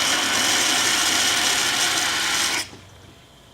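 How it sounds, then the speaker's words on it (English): A loud, steady crackling rush of cavitating flow through the constriction of a venturi pipe fills the air, then cuts off abruptly, leaving a faint hum. "you can clearly see and hear the cavitation occurring"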